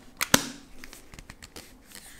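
A Nikon F5 film camera back is shut with a couple of sharp, close snapping clicks, followed by softer small handling taps and rattles.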